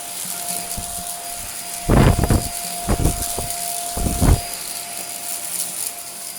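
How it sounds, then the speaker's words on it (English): A cheap Belaco BUVC134A vacuum cleaner runs with a steady whine and a hum, broken by a few loud, rough thrumming bursts as something rattles through the suction ducts. "That's making such a racket, and something's thrumming through the suction ducts"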